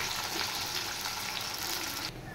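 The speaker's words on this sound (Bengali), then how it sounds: "এবার দিয়ে দেব কুচিয়ে রাখা পেঁয়াজ। তেলটা বেশি গরম হয়ে গেছে।" Chopped onions hiss in very hot oil, a dense, bright, even sizzle that holds steady and drops abruptly near the end; no talking.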